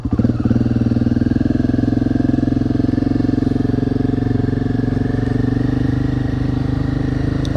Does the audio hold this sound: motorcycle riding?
yes